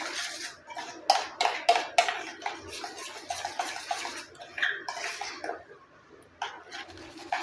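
A coffee face pack with lemon juice is stirred in a bowl, giving repeated soft scraping and tapping strokes in an uneven rhythm, close and moderately quiet, with no talking.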